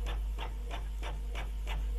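A photo printer prints a picture sent from a phone, making a steady, rhythmic mechanical whirring with regular pulses about every third of a second, close and continuous with no talk.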